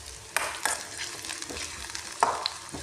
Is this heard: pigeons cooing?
no